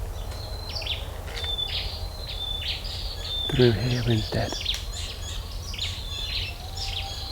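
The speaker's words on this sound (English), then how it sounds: "You hear the birds." Birds chirp and call repeatedly from hidden spots in the greenery of a quiet Singapore island walk, light high tweets scattered throughout, with a brief burst of nearby speech in the middle.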